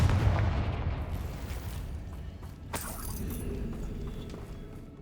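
The Confringo fire spell in Hogwarts Legacy lands with a booming explosive blast and a sharp cracking burst, followed by a rumbling, debris-like tail that slowly fades. No voices are heard.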